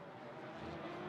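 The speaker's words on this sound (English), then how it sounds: "You can actually hear more transmission noise than you can engine, and then you hear that big flywheel spinning up" Audi race cars passing at the 6 Hours of Spa-Francorchamps, heard as a steady close mechanical whine of transmission noise over a low engine drone, fairly loud and continuous with no voices.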